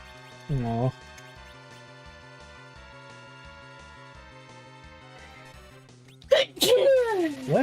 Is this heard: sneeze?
yes